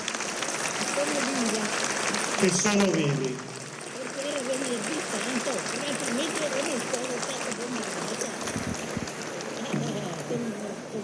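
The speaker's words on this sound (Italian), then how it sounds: "E vi chiedo un applauso grandissimo a Bertilla e a tutti coloro" Sustained applause from a large crowd honouring Bertilla and other survivors, steady and full, with a voice speaking over the start.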